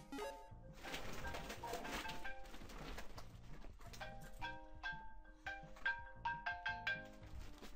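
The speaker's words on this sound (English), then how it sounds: "And of course the phone's going off." A phone rings nearby during a Spelunky game session, sounding as faint repeating tones over busy game music and effects.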